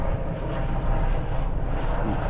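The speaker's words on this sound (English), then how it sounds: "There's a chopper flying through the air there." A helicopter passes over a Florida swamp campsite, its steady, broad engine and rotor rumble filling the air throughout with no voices.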